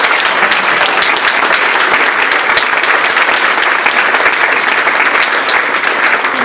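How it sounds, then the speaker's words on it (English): Loud, continuous applause from a packed audience at Emporia State University during a speech by Governor Brownback, a thick, steady wash of many hands clapping at once, close and unbroken. "We have a round of applause for Dr."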